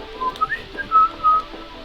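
A person whistles a few short, unconnected notes rather than a tune, with brief bright tones starting and stopping in an uneven rhythm, close and fairly clear over faint background sound in a Sims 4 bakery setting.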